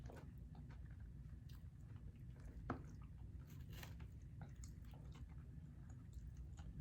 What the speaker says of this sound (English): I love their crunchy egg rolls.